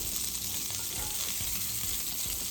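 Sausage frying in hot oil for a seafood gumbo with roux, a steady broadband sizzle running unbroken and close by, with faint stirring or spoon movements underneath.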